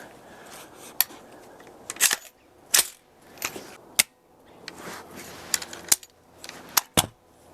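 Rifle fired downrange, a handful of sharp, cracking reports spread unevenly over several seconds, mixed with lighter mechanical clicks and knocks and no speech.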